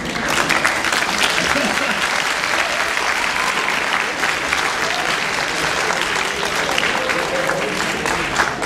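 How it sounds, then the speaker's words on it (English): A school Founders' Day audience applauds their headmaster, dense steady clapping that fills the hall evenly from start to finish with a murmur of crowd underneath. "Go ahead, you can clap for your headmaster."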